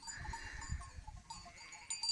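Sheep on a mountain farm with red barns give soft, distant bleats over a low, rumbling outdoor background, with a brighter call near the end.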